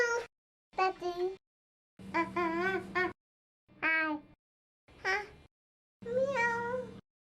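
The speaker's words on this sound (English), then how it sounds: "Meow." A cartoon cat meows several times, short voiced cries spaced apart by silence, close and clear with no other sounds.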